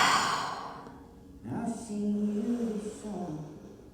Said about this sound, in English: Exhale to release.